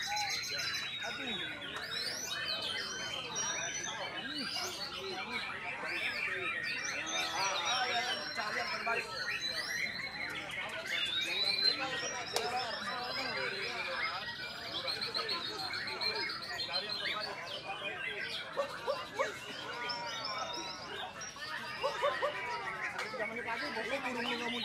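Competitive songbirds sing continuously at a bird contest, dense overlapping chirps and trills throughout, with crowd chatter and voices underneath.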